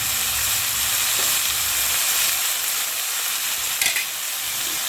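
Brinjal (eggplant) and chilli sautéing in a pan give a steady, close frying sizzle and hiss that lasts throughout, with a brief clatter of stirring near the end.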